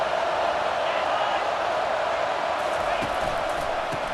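A college football stadium crowd at UF vs FSU roars in a dense, continuous wall of noise that stays loud and steady, heard from within the stands.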